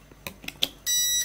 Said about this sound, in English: it beeped 3 times when I touched the master tag